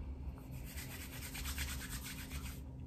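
Hair gel or pomade being rubbed into natural hair with the hands, a quiet, close, rhythmic brushing and rubbing that continues for a few seconds.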